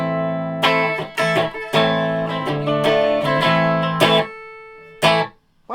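Electric guitar played clean through a single-coil bridge pickup, with close, bright strummed chords and single notes struck in an uneven rhythm, each ringing out before the next attack, ending on a last sharp strum.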